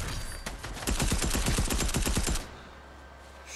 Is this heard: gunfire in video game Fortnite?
yes